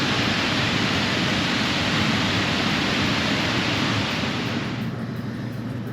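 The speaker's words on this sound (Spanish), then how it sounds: "ahí están las cascadas repletas de agua" A loud, steady rush of water from full waterfalls in an Australian rainforest fills the air, a continuous broadband roar that eases slightly toward the end.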